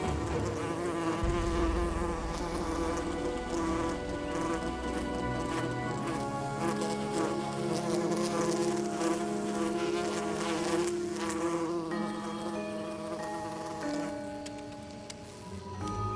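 Paper wasps buzz steadily at close range, a dense droning hum of wings that persists throughout with slight shifts in pitch and intensity.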